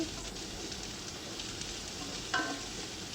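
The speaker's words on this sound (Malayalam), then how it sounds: "ആ ഉള്ളി ഒന്ന് വാടി വരണം, അതേപോലെ അത്രയ്ക്ക് നമ്മളൊന്ന് മിക്സ് ചെയ്ത് കൊടുക്കുകയാണ്." Sliced onions for a masala softening in a pan, giving a faint, steady sizzle with soft stirring and one brief clink near the end, quiet and continuous.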